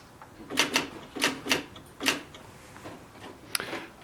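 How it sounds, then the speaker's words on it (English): Keys strike on a Xerox Memorywriter 6020 electronic typewriter, a handful of sharp, close mechanical clacks in an uneven burst followed by a few quieter ticks. "I'm just going to type hello here."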